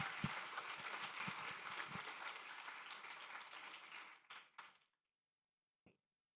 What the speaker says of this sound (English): Yes, a round of applause for them.